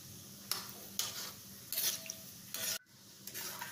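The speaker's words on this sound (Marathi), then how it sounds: "बारीकच गॅस ठेवायचा, म्हणजे छान खरपूस नीट असे तळले जातील ते।" Cashew pieces frying in oil over a low flame, crackling and sizzling steadily with repeated bursts of stirring and scraping in the pan, close and fairly quiet.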